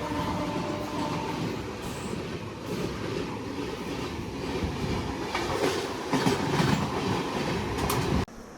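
Paschim Express train rolling slowly along the tracks, heard from inside with a continuous rumble and rhythmic clickety-clack of wheels over joints, steady and close, ending abruptly.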